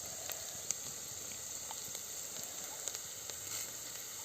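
Mustard seeds sizzling in hot oil during preparation of a jackfruit vegetable dish, a faint continuous hiss dotted with small sharp pops and crackles, with no talking.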